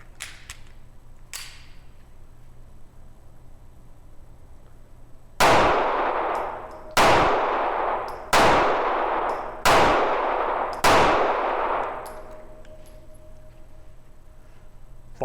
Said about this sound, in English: we're going to be shooting 124 grain Aguila